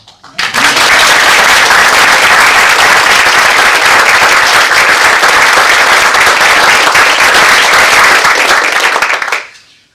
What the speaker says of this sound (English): Now we can applause.